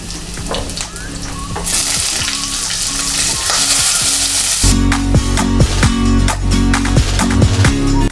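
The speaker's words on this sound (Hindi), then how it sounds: "प्याज को हल्का सा लाइट ब्राउन करेंगे, तब तक हम इसको भूनेंगे" Onions with cumin and garlic sizzle and crackle steadily in a hot pan, with a louder burst of frying partway through and occasional clinks of a stirring spoon.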